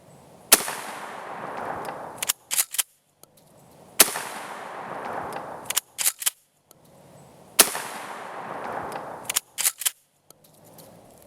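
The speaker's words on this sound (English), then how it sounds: "Here are the 3 slug shots I just fired." Mossberg Model 500 pump shotgun firing rifled slugs: three loud, sharp blasts spaced about 3.5 seconds apart, each with a decaying echo, followed by clacking pump-action cycling, outdoors with no talking.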